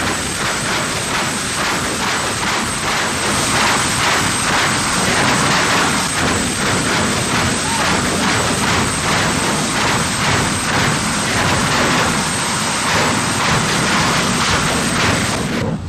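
A jet car engine with afterburner gives a loud, continuous roaring blast with harsh crackling texture and a high whine, sustained without letting up.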